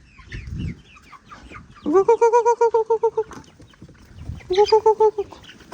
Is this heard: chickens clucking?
yes